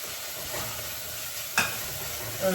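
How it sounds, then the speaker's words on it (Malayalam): Ginger and garlic sizzle quietly in a hot pan, a soft steady crackle with a brief scrape of stirring partway through. "ഇഞ്ചിയും വെളുത്തുള്ളി നന്നായിട്ട് മൂക്കണം കേട്ടോ"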